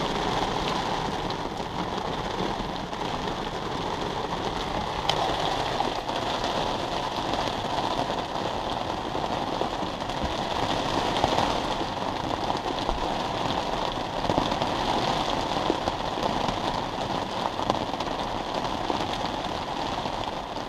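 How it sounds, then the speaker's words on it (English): Steady rain patters on a Mazda MX-5 Miata with its top up while the car is being driven, an even, continuous hiss and drumming with road rumble beneath it, no voices. "the best Miata drives are in the rain with the top up"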